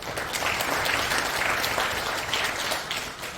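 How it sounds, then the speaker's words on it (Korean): An audience in a national assembly library auditorium applauds during a Christian women's prayer meeting, with brisk, dense clapping that rises quickly, holds for a few seconds and then begins to taper off. "박수"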